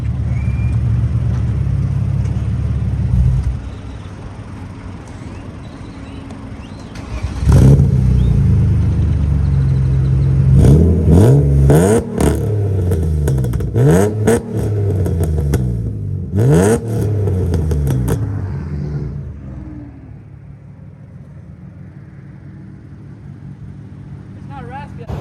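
A BMW E36 M3 with a new aftermarket exhaust starts and revs in a shop, with a deep rumble rising in several sharp throttle blips before settling to idle, as people talk nearby.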